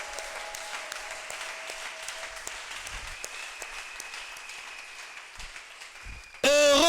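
Sustained applause from a church congregation, a steady wash of many hands clapping that fades gradually before a sudden loud burst of another sound at the end.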